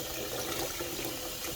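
A kitchen faucet runs in a steady, close, aerated spray with a bubbly hiss, continuous and alone.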